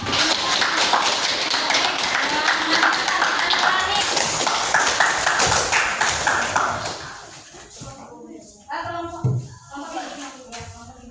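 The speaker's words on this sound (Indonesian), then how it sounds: "tepuk tangan untuk kelompok apa?" A classroom of students claps for a group, brisk overlapping applause running for about seven seconds before fading, followed by scattered voices and a few shuffling sounds.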